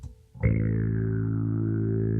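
A guitar run through a pedal's distortion effect: after a brief quiet start, a thick, buzzing, sustained distorted tone swells in and holds steady and loud, with a rich stack of harmonics and no talking.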